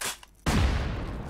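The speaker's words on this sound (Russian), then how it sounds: "Будет небольшой взрывчик." A small explosive blast on a house door in the video game Rust, a single sudden boom that follows a brief quiet moment and then rumbles and fades.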